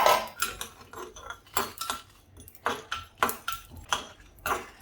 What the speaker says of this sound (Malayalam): ജീരകമൊക്കെ നന്നായിട്ട് പൊരിഞ്ഞ് വരുന്നുണ്ട് പൊട്ടിത്തുടങ്ങി